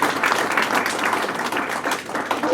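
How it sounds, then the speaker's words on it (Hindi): Audience applause at a farewell function in Bhopal, a dense, steady clapping from many hands that fills the whole moment at moderate loudness. "एक बार माता जी के लिए जोरदार तालियां हो जाए"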